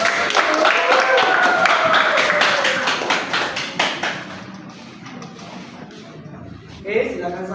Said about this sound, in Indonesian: Ayo, kasih tepuk tangan dulu.